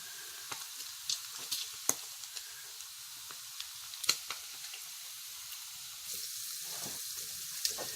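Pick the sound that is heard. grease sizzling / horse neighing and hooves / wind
grease sizzling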